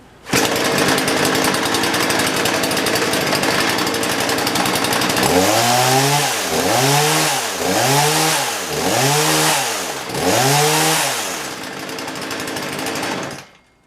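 A Husqvarna 235 chainsaw runs after a piston and cylinder replacement, idling with a steady buzz before being revved in five rhythmic rising-and-falling bursts, loud and close, with no talking.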